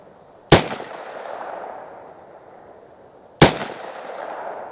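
Two sharp, loud .22lr gunshots from Federal Premium Punch rounds, spaced about three seconds apart, each a crisp crack followed by a short ringing decay outdoors.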